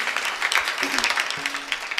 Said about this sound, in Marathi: जोरदार टाळ्या वाजवा त्यांच्यासाठी